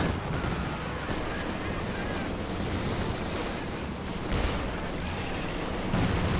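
Artillery barrage in a video game match, a thick, continuous roar of overlapping gunfire and explosions with a few stronger blasts, as a voice talks beneath the din.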